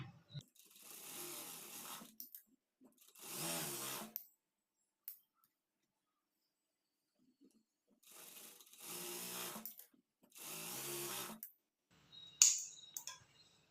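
A sewing machine stitches a blouse shoulder seam with half-inch seam allowance on a high-neck blouse, running in several short bursts separated by pauses, close and fairly quiet, with no talking.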